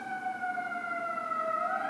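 Emergency vehicle siren in the background, a steady wailing tone that slowly rises in pitch and holds throughout, moderately loud and continuous with no talking.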